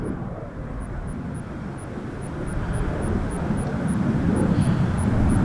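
Fixed-wing airplane passing near an airport in a North Carolina city, a steady broad engine rumble that slowly swells louder over several seconds, heard alone with faint high chirps above it.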